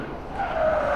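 An Alpine A110 S corners hard, its tyres squealing in a rising, sustained screech over road noise for about a second, with no voices.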